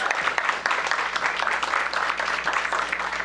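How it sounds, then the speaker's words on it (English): An audience at a middle school event applauds a student speaker with dense, sustained clapping from many hands, even and fairly loud with no pauses, filling the room throughout. "Give him a big round of applause."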